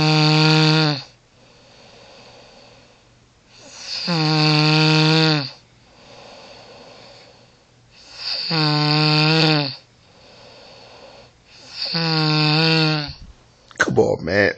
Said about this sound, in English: My wife is snoring up a storm.